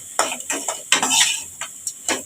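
Utensils scrape and knock against a pan at an irregular pace while vegetables with turmeric sauté softly, close by.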